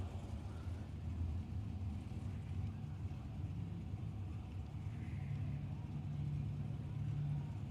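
A Chevy Love ute idles and rumbles at Willowbank Raceway during a drag racing event, a low, distant engine drone that is fairly quiet and steady, with faint voices in the background.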